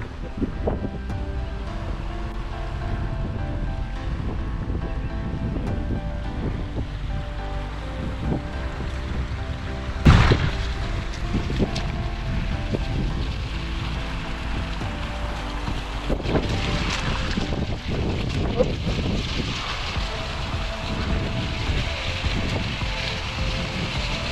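A stream flows toward Kalammadevi waterfall in Kolhapur, giving a steady, full rush of water that stays constant throughout, with a brief louder knock partway through.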